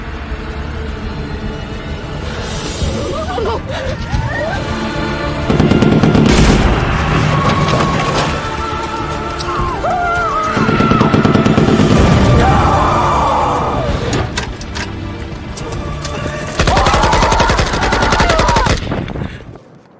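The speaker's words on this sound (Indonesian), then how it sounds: "mereka melepaskan tembakan secara bertubi-tubi ke arah mobil ambulans" Loud bursts of rapid automatic gunfire from an action film rattle in repeated volleys at an ambulance, with heavy booms, shouts and a dramatic soundtrack mixed in.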